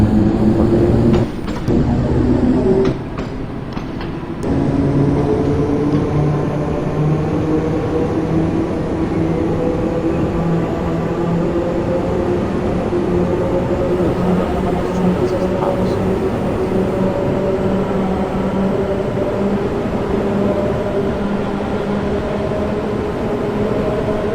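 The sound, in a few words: London Underground Bakerloo Line train, Train Sim World 2 video game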